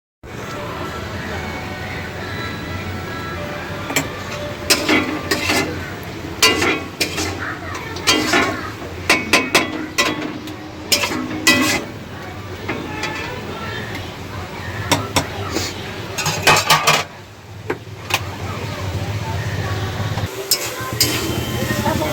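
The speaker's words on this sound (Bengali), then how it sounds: "ভালো করে এখন কষে নেব, তেল বেরোনো পর্যন্ত।" Bengali-style chicken masala frying in oil in a pan while being stirred: steady sizzle under repeated clatter and scraping of a spoon against the pan, with talking over it.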